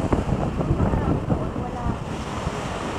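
Sea waves wash steadily onto the shore at a seaside campsite, with a dense, continuous roar, close and loud, mixed with wind buffeting the microphone.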